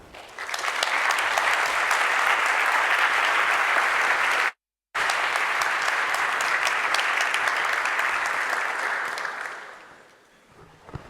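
A large keynote audience at the FABRICATE 2024 conference in Copenhagen applauds steadily and loudly to welcome speaker Anna Dyson. The clapping is broken by a brief gap near the middle, then fades out toward the end.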